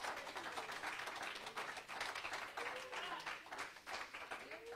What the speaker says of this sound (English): somebody give the Lord a hand clap of praise